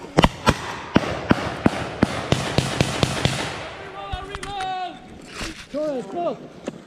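Gunfire at a WWII reenactment battle, a rapid run of sharp, loud rifle shots in steady succession, then a few scattered shots with people shouting nearby.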